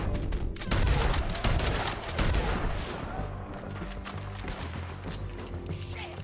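Rapid gunfire in Red Dead Redemption 2, including a gold bolt action rifle, sounds as a dense volley of sharp cracks and booms that starts loud and thins into scattered shots and rumble.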